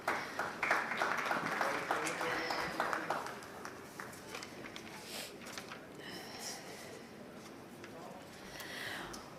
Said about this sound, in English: Let's keep the claps coming.